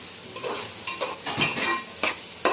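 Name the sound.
onions frying in hot oil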